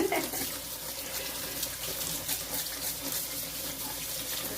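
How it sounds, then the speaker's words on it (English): Tap water runs steadily into a sink while hands are washed before making a French onion cordon bleu pie, a continuous close splashing hiss with no talk. "the first thing we're going to do, and wash my hands, is wash your hands"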